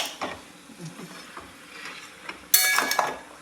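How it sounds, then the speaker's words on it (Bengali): Mutton is stir-fried in a kadai with oil, salt, turmeric and chilli powder. A metal spoon scrapes and clinks against the pan in scattered strokes, then a louder burst of sizzling and clatter rises near the end. "মাংস কষা হচ্ছে।"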